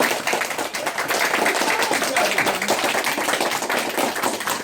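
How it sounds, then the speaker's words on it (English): Classroom audience of fifth graders clapping through a steady round of applause at an elementary school American Revolution walkthrough, dense and sustained, with faint voices mixed in. "get a round of applause, everyone"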